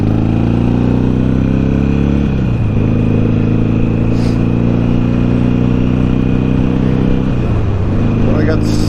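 A Jeep engine drones steadily at close range while driving on a freeway, with loud, continuous low road and engine noise throughout and a couple of brief pitch dips.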